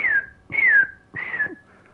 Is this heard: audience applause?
no